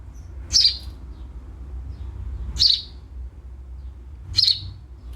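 A pet bird chirps indoors in three short, bright bursts spaced about two seconds apart, fairly close, over a low steady room hum with no talking.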